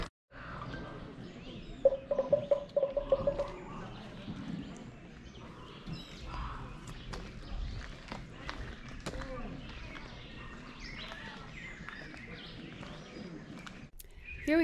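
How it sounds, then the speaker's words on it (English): Handclaps at ancient stone ruins in the rain echo back as short chirping, bird-like tones in a quick repeated burst. Other claps and footsteps follow under steady conversation. "if you clap, it echoes the sound that the bird made"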